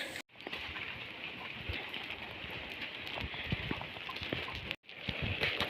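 Rain falls steadily during the rainy season near a flooded house, a constant hissy patter with scattered drip taps and faint bird calls behind it, briefly cut twice.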